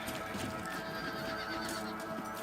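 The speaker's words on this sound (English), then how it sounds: "Let's get back on the horses and see what else is going on." A horse in the video game Red Dead Redemption neighs loudly while its hooves clop steadily throughout, close and continuous with no talking.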